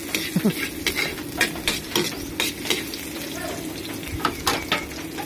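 Garlic sizzles in a hot pan while a utensil stirs it, scraping the metal in quick, repeated strokes over a steady, loud frying hiss.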